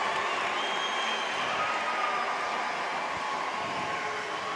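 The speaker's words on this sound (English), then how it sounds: "You can hear the crowd erupt for that one" Arena crowd at an NCAA college gymnastics quad meet roaring after a stuck uneven-bars routine, a dense, sustained wash of cheering and applause that holds steady and loud throughout.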